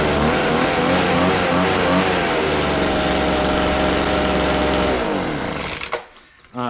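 A new Cub Cadet push mower's small gas engine fires and runs loud and steady up close for about five seconds, then sputters and cuts out.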